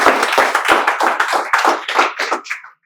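A classroom of students claps for a classmate at a spoken English class, with a burst of loud, uneven hand claps that thins out and fades over a few seconds.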